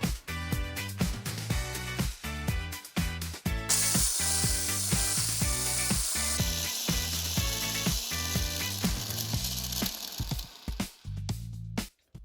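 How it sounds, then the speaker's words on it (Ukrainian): An electric mixer on low speed beats sponge cake batter as egg yolks go in one at a time, a loud, whirring motor with rattling, clattering beaters that grows harsher midway and winds down at the end. "По одному і на малих обертах знову вимішуємо."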